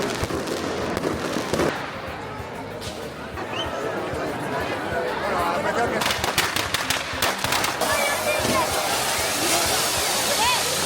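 Fireworks going off at the Fallas festival in Valencia, a dense continuous roar of crackling and popping with sharp loud bangs clustering in the second half, crowd noise underneath.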